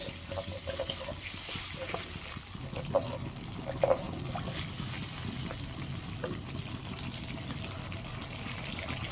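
Kebab masala karahi frying and being stirred in a pan, a steady close sizzle with a few sharp clinks of the spoon against the metal.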